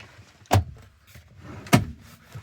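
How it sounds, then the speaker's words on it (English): Two solid thumps of a car door shutting on a 2025 Kia Sorento X Line, heard from inside the cabin, each a short muffled slam about a second apart with quiet between. "Going to shut the door,"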